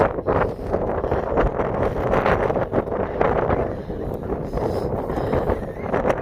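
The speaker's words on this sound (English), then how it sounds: "Wind." Wind on a blustery outdoor day, a steady loud roar buffeting the microphone, broad and unbroken for several seconds with no talk.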